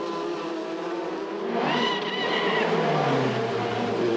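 A Formula Renault Eurocup race car at Pau screams past, its high engine note sweeping upward and then falling away as it passes, loud and close, with a continuous background roar.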